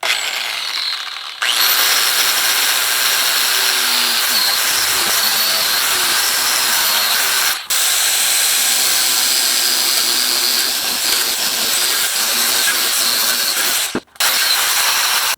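An angle grinder works a welded drip rail seam on a VW or Porsche, a loud, close, high whine that runs steadily and cuts out briefly twice before starting up again.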